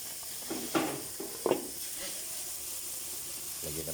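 Filipino pork steak sizzles softly in a pan, a low, steady frying hiss broken by a few clinks and scrapes of stirring.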